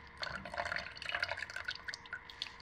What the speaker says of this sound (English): Now I'm straining them, pressing them through the strainer.